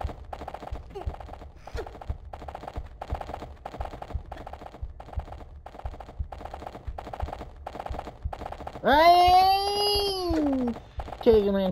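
Gunfire in the game Tomb Raider Unfinished Business Remastered comes as a steady, evenly spaced series of sharp shots for about nine seconds, then a wailing, warbling creature cry rises over it near the end.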